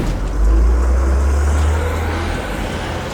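A car's engine drones low and steady, swelling early and then easing slightly, with no one talking.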